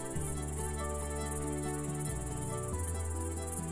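Insects calling for a mate with rapid, steady cricket-like chirping, a continuous pulsing trill that carries on alone throughout.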